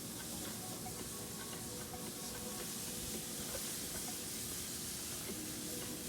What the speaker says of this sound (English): Ooh, that sizzle is beautiful.